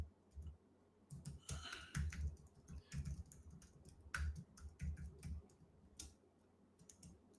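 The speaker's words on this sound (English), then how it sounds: "I'm just typing that in the chat." Someone types on a computer keyboard in quick, irregular bursts of close, crisp key clicks with short pauses between them, heard on its own without talk.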